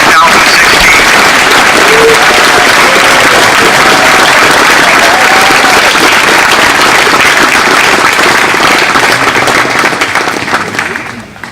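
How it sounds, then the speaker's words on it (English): Loud, sustained applause from the audience at a Carson Long Military Academy graduation ceremony, a dense roar of many hands clapping with faint cheers mixed in, holding steady for about ten seconds before tapering off at the end. "Would you please join me in a round of applause for the Carson Long Military Academy class of"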